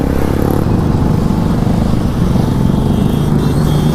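Motorcycles and cars rumble steadily through heavy highway traffic, a loud, continuous engine drone close by with no clear breaks.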